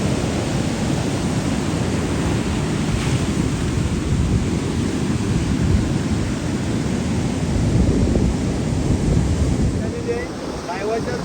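Rough, stormy sea waves along the coast, a constant loud roar of surf mixed with heavy wind buffeting the microphone.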